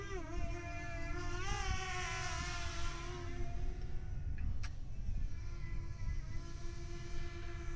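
A drone flying at a distance over a foggy reservoir in still air, giving a steady, faint harmonic whine that rises and wavers in pitch, with low background rumble throughout.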